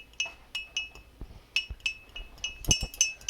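An egg whisked in a glass bowl with a fork, a quick series of light, bright clinks tapping against the glass, close and irregular with no talking.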